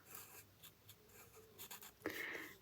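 A pen or pencil scratching on paper while drawing a Narnia-inspired map, faint and close, with short scattered strokes and a longer squeaky stroke near the end.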